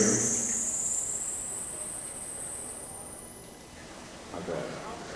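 A synthesizer imitates cricket chirping, a high, bright sustained tone gliding slightly upward before fading out, over a low hiss of room noise, with a brief low thump near the end.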